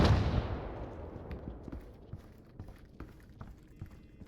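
Distant gunfire in the video game Arena Breakout Infinite crackles in scattered bursts and single shots over a low rumbling background, fading slightly after an initial louder burst.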